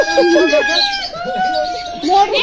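Birds, pigeons or doves among them, chirping and calling while being fed on an outing, close and clear, with people talking over them throughout.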